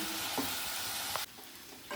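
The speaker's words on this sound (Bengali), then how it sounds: "এবার পেঁয়াজটা আমি খুব ভালো করে একটু ভেজে নেবো" Steady, dense sizzling of onions frying in mustard oil, broken by a couple of stirring scrapes, with the sizzle dropping in volume partway through.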